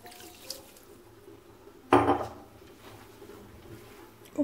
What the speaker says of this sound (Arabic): غادي نعاودو نرشوه بالماء